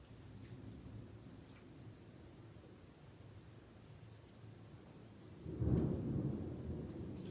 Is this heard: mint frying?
no